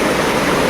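River water rushing in a steady, dense broadband wash, loud and close, with no pauses or voices over the brief stretch.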